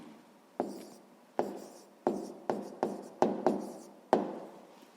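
Pen strokes writing out a sixth-grade maths equation solution on paper, several short scratchy bursts at an uneven pace, close and fairly quiet, no voices.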